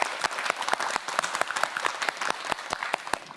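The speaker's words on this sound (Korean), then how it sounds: "큰 박수 보내주시기" A studio audience on a science quiz show claps, a quick run of distinct, closely spaced hand claps at moderate loudness, steady throughout with no talking.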